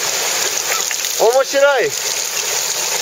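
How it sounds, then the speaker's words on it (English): Hot spring water bubbling and spurting up in a bubbling basin in Japan gives a steady, close hiss and gurgle, with a brief voice speaking over it midway. "This is the bubbling basin."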